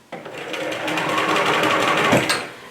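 A home sewing machine stitches steadily along an existing line of stitching while its presser foot edge guides the fabric of an appliquéd pocket, a continuous close whirring run that slows briefly near the end.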